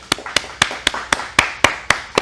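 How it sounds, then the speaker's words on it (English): Clapping along at a virtual gala, about nine crisp, evenly spaced claps in a steady rhythm, close and loud with nothing else around them. "In your space where you are, would you just clap with me"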